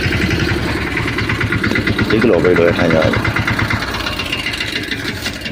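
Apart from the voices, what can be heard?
tractor engine running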